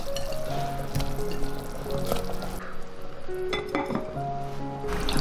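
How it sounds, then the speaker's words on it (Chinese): Cut corn pieces go into a pot of Chaoshan-style soup that has simmered with five-finger fig root. Clinks of utensils and the pot sound alongside splashing and pouring, close and moderately quiet, with no talking. "我们就把它夹出来，再把玉米加进来，煲半个小时"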